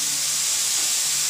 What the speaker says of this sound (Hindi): अब इसी में हम टमाटर डाल देते हैं